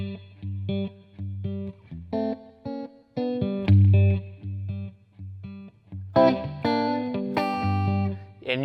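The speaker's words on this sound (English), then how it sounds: "This is the sound of G mixolydian." An electric guitar plays a blues groove in G mixolydian through effects, a rhythmic riff of repeated chord stabs and bass notes, loud and close, with a brighter louder passage toward the end.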